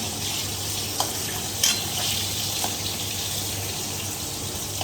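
Oil sizzles and crackles steadily as fish fries in a pan, with a couple of soft clicks and a low background hum.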